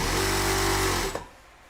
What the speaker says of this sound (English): I'm gonna go ahead and sew all my small tutus